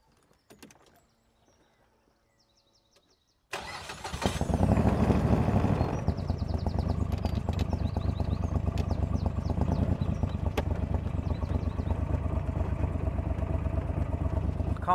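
Morgan 3 Wheeler engine starting up and pulling away for a spin around a track, faint clicks and beeps first, then a sudden loud, rough, steady motorcycle-like rumble close by, continuing without talk.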